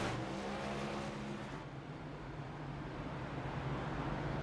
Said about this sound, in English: we got a car going on the outside in that Cubs machine